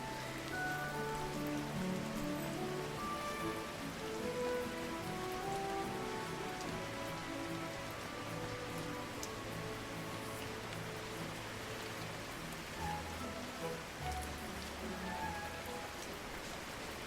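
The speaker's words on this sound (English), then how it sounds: "it's raining hard." Steady heavy rain falls in the Kitaria Fables video game, a dense continuous patter on surfaces that holds evenly throughout with no talking.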